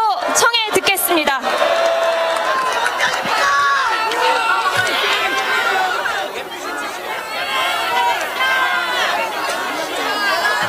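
Outdoor political rally crowd cheering and applauding, a loud mix of clapping, whoops and chatter with a voice briefly breaking through at the start, the noise continuing steadily.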